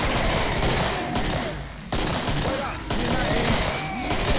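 Gunfire in the Killing Floor multiplayer shooter game: loud, dense bursts of automatic fire with brief gaps, mixed with game effects.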